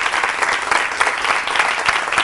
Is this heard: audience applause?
yes